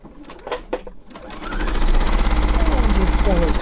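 A sewing machine stitches a green strip onto a curvy log cabin quilt block, starting after brief handling noises and then running steadily with a fast, even, rattling rhythm close by.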